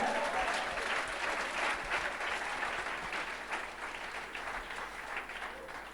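A church congregation applauds the Lord during a bilingual Spanish-French conference service, a steady sustained wash of clapping that is somewhat distant and fades slightly toward the end.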